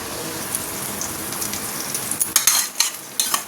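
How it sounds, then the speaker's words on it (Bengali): Spices being dry-roasted in a pan in a home kitchen, a soft steady sizzle and crackle with occasional sharper scraping and stirring clatters near the end, close and moderately quiet, no talk. "সেই জন্যই আর কি ভাজছি সকালবেলা মশলা"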